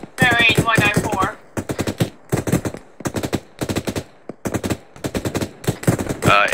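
Anti-aircraft gun fire in Arma 3, loud rapid bursts of automatic shots repeating in short clusters with brief gaps, close and dominant throughout.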